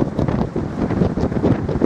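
Strong wind at the CN Tower buffets the microphone in a steady low rumbling roar with gusty surges, no voices.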